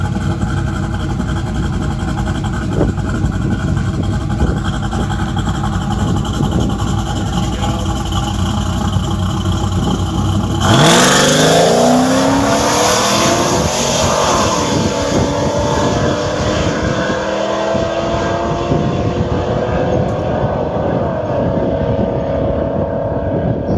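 A cam-only LS1 Trans Am WS6 drag car with a roughly 300-pound weight reduction makes a solo drag strip pass. A steady background rumble gives way to a loud engine launch about halfway through, its pitch climbing and sweeping through the gears as the car pulls away.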